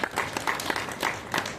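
Applause at a school board-result celebration for the Class 12 Arts class teacher, a dense burst of clapping from a crowd, close and continuous through the moment.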